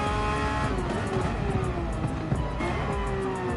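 Race car engine roaring at steady high revs through a corner at Daytona, with a tire squeal as the rear steps out in a small oversteer slide on exit, loud and continuous.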